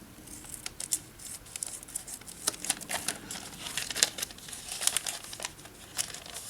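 Scissors snip through gasket material for a fuel pump rebuild on a 1967 Mercury Thunderbolt 950 95 hp outboard engine, a quick series of close, crisp cuts and crinkles with no talking.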